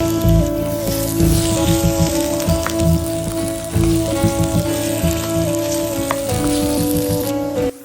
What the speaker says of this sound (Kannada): ಈಗ ಒಂದು ಪ್ಯಾನ್ನಲ್ಲಿ ಆಯಿಲ್ ಸ್ವಲ್ಪ ಜಾಸ್ತಿ ಹಾಕಿ ಪೊಟ್ಯಾಟೋಸ್ನೆಲ್ಲ ಫ್ರೈ ಮಾಡ್ಕೊಳ್ಳೋಣ 5 ಮಿನಿಟ್ಸ್